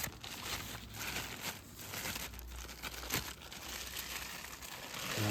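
Bubble wrap packaging around a used camera lens, handled close up in a warehouse, giving soft continuous crinkling and crackling with a few sharper pops, fairly quiet throughout.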